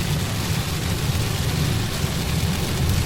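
Steady rain beating on a car windshield during a road trip through the mountains to Canmore, Alberta, a dense, even hiss with low rumble that holds at constant loudness throughout, with no one talking.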